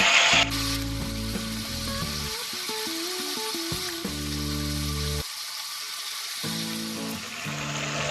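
Ginger and garlic paste sizzles steadily in a hot pan for a restaurant-style chicken curry, a constant frying hiss under louder background music with no talking.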